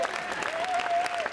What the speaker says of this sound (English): good sympathy clap, that's a good sympathy clap